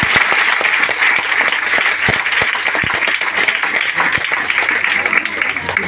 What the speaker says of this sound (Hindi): 3 बोलेंगे तो ताली लगाइएगा।